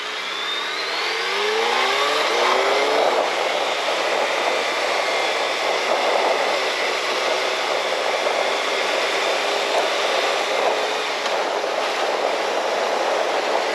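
A Suzuki Hayabusa sport motorcycle accelerates hard through its gears. The engine's whine rises quickly at first, then settles into a loud, sustained high-revving roar heard close up, with wind rush and no speech.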